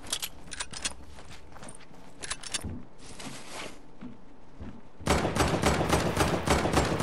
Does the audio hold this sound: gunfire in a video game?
yes